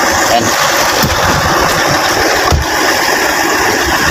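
A 2019 Toyota Hilux engine running after a clutch replacement, a loud, steady idle with a constant rumble heard up close in a workshop.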